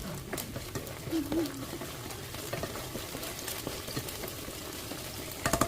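Garlic, ginger and white onion end pieces frying in oil for a stir fry, a steady low sizzle with scattered pops and stirring scrapes, moderately faint, spattering rising at the end.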